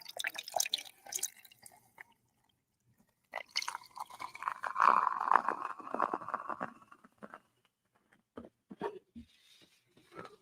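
Peach mango drink poured into a glass, with drips and liquid patter in bursts, then a longer steady pour in the middle, followed by scattered drips and small splashes, close and fairly quiet.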